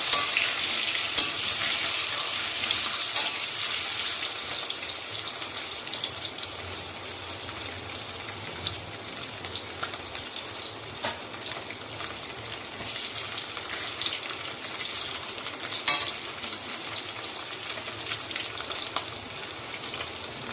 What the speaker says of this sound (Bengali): ডিম আমার ভাজা হয়ে গেছে এখন আমি ডিমগুলোকে নামিয়ে নেবো